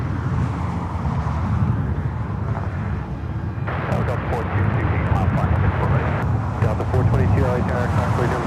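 Jet airliner taking off or landing at LAX, a loud continuous engine roar heard from a distance, steady throughout with shifting texture, no talking.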